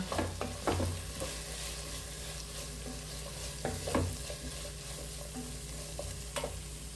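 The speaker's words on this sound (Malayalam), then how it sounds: "ഇനി ഒന്ന് നന്നായി ഇളക്കി കൊടുക്കാം" Chicken milk curry with curry leaves being stirred in a hot pan, a steady sizzle throughout with sharp spoon scrapes and knocks at irregular intervals, close and clear with no talking.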